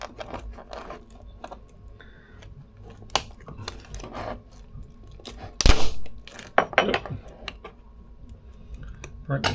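Cracking and prying the shell off a huge brown crab while cooking on a boat, with scattered snaps, scrapes and rasping crunches, one sharp crack midway, under occasional talk.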